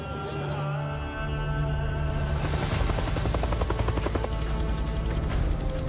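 Military helicopters fly over Mogadishu, a loud continuous rotor drone with rhythmic blade thumping that swells as they pass close overhead.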